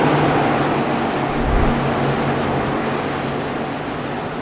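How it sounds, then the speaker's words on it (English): Race car engines roar around a Gateway track during a race, a dense, continuous wash of revving engine noise with a slight surge midway, heard from a distance without speech. "The high revs you hear down in that area, that is where the shifting is happening."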